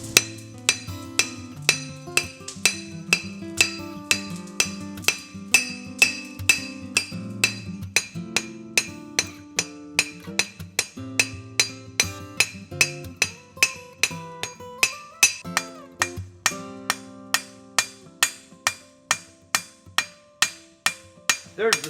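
A farrier hammers a hot horseshoe on an anvil to draw a toe clip, with dozens of sharp ringing metallic blows in a steady rhythm, close and loud, growing quicker and more regular toward the end.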